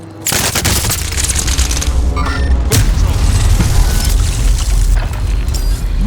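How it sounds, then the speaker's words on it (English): Airstrike explosions in the video game Call of Duty Warzone, a loud, continuous barrage of deep booms and rapid gunfire-like blasts that fills the whole stretch without pause. "airstrike. Stay alert."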